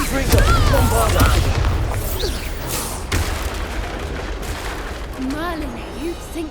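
A Bombarda spell explodes in Hogwarts Legacy with a loud booming blast early on, followed by lingering rumble and fainter impacts, with voices speaking over the battle noise.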